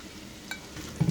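Vegetables sauté in about two tablespoons of butter in a skillet, giving off a soft, quiet sizzle. A brief stir or scrape comes near the end.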